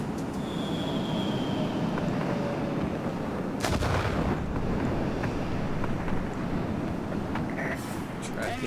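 Bombs dropped from a Me 1099 B-2 aircraft in the video game World of Warplanes explode with loud, heavy booms, one sharp blast standing out midway, over a continuous roaring rush of engine and wind noise.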